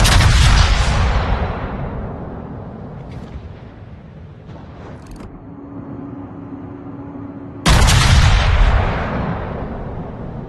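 Naval guns fire on an enemy warship in a video game, two heavy broadband booms roughly seven seconds apart. Each has a long decaying rumble, with quieter rumbling and faint mechanical tones between them.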